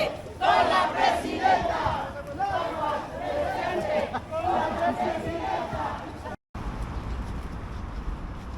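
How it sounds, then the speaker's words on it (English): A large crowd streams toward the Zocalo in Mexico City, with loud collective chanting and cheering voices rising and falling over a steady outdoor murmur, then a brief cut to quieter street noise. "there's still so many people coming towards the Zocalo"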